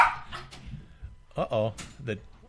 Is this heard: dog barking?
yes